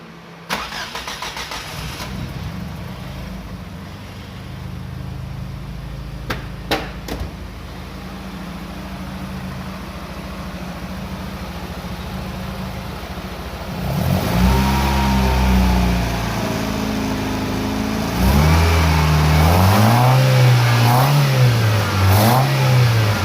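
A Ford Zetec 1800 engine converted to motorcycle carburettors cranks with a whirring starter, then fires and catches. It settles into a loud idle and is blipped through several rising and falling revs, close by.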